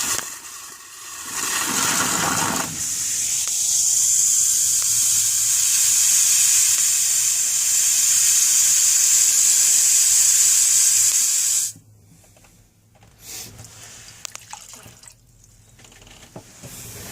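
Water hisses steadily into a travel trailer toilet bowl, a loud bright rushing spray that holds for about ten seconds, then cuts off abruptly to quiet with a few small clicks.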